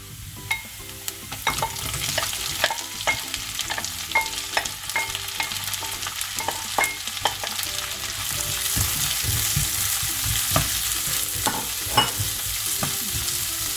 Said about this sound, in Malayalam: അതിലേക്ക് നമുക്ക് സവാള ഇങ്ങനെ അരിഞ്ഞു വെച്ചിരിക്കുന്നത് ഇടാം.